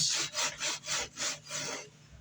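A scrubber is rubbed hard across a plastic tank in five even back-and-forth strokes, loud and close, then a softer final rub trails off.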